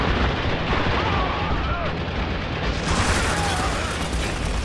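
A stationary mounted gun firing in the Spec Ops The Line video game as a continuous, dense, booming roar of heavy fire that carries through the whole stretch without a break, with game effects layered underneath.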